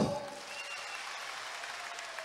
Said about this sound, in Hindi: तो जोर से ताली बजाओ।